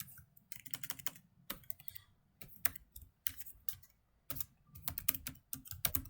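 Typing a Gmail address on a computer keyboard during a Python email tutorial, bursts of close, crisp key clicks separated by short pauses, with no voices.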